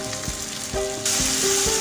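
Garlic sizzles in sesame oil in a pan, a loud continuous frying hiss close by, with a few soft stirring knocks and no talk.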